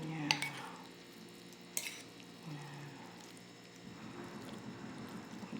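Instant Indomie noodles stirred together with egg and spices, soft clinks of a utensil against the bowl and wet squishy mixing sounds, close and fairly quiet, with no talking.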